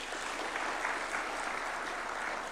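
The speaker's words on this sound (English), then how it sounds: "Gaudensha Maloba, a round of applause for her," Steady applause at a State House reception honouring the national women's football teams, a continuous dense patter of clapping from a gathered audience for the full duration, fairly even in loudness.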